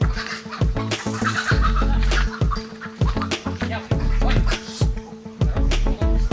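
Chickens inside a coop on a poultry farm with many dead birds, clucking repeatedly and close by over a rhythmic, pulsing mechanical background with sharp scratchy knocks.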